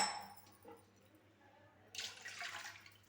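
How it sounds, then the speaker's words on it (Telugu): Water splashes and pours into a pot for about a second, faint and close, after a few soft drips and clinks; two glasses of water for ragi porridge. "ఈ గ్లాస్తో ఒక రెండు గ్లాసులు వాటర్ పోసుకోవాలి"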